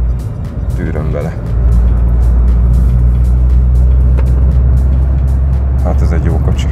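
A 2025 Suzuki Swift Hybrid with a 1.2-litre Z12E engine drives through an S-curve, its road and engine noise a loud, steady rumble heard from inside, with someone speaking over it.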